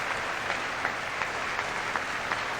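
Applause from a seated audience during a political speech, a steady, distant wash of clapping with a few sharper claps standing out, continuing throughout without voices.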